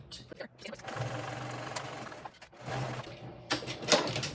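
A sewing machine stitches across the top of a fabric backpack in two steady bursts of motor whir, close by, separated by short pauses and light handling clicks.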